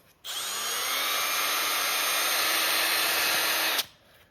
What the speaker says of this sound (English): I want to drill the whole offset so it's not, so I don't have to trim it.